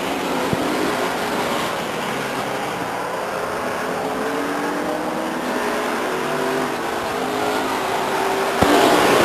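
Stock cars racing at Stockton 99 Speedway, a steady blended engine roar from the pack circling the oval, holding at a constant loud level with one brief sharp knock near the end and no talk.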